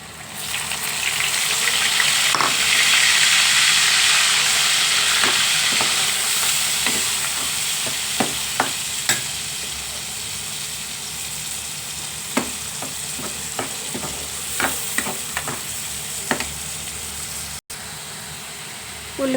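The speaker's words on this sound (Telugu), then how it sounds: "వంకాయ ముద్ద బాగా వేగిపోయిందండి ఆయిల్లోని" Onion paste fries in oil for a potals curry, a loud bright sizzle that slowly settles, punctuated by repeated clanks and scrapes of a spoon against the pan, with a brief gap near the end.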